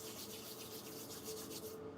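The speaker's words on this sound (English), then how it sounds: "Rub your palms together with closed eyes." Palms rub together in a steady, soft swishing friction with rhythmic strokes, quiet and close, during a guided breathwork meditation.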